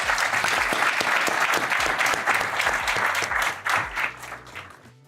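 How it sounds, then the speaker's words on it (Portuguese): Applause from a conference audience in Porto, a full, continuous round of clapping that thins out and fades toward the end. "um enorme aplauso e um muito obrigada"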